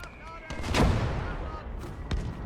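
Mortar rounds thump out in the WWII game Gates of Hell Ostfront, one heavy booming blast followed by a second, sharper report later, amid rumbling battlefield noise.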